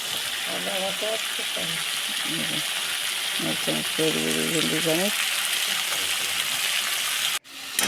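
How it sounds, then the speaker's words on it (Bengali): A ground spice paste of cumin, coriander, dried chilli, ginger and garlic frying in a pan, giving a steady, close sizzle, with a voice over part of it. "মশলাটা ভাজা হয়ে যায় ভালোভাবে"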